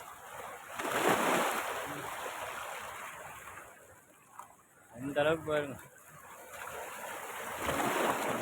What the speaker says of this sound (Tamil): பாருங்க தொப்புளிக்குது தண்ணி